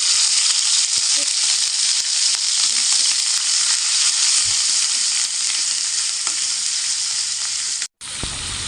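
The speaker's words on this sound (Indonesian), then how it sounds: "Ini biar harum, kita goreng dulu." Rica-rica spice paste sizzles loudly and steadily in a hot pan, a dense continuous frying hiss with faint stirring clicks and a brief break near the end.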